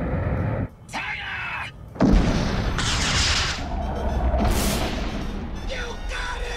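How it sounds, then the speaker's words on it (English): Cartoon artillery cannon firing from a hatch on a Transformers craft, heavy booming blasts with rumbling low end, loud and close, mixed with voices and sci-fi effects. "Open the artillery hatch."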